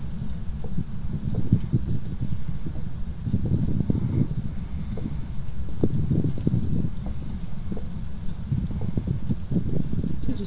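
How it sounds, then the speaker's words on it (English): Footsteps in a video game, a steady run of soft thuds and scuffs continuing throughout at close range over a low rumble. "I hear footsteps."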